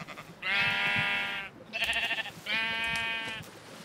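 Sheep in Minecraft bleat three times, each a loud, wavering call of about a second, spaced by short gaps and heard up close with no talk over them.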